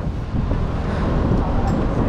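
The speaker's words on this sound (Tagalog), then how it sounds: "Oh, sarap ng hangin, grabe. Lakas." Strong wind by the Pasig River in Rockwell, Makati buffets the microphone in a steady low roar, loud and continuous throughout, with faint traffic noise mixed beneath.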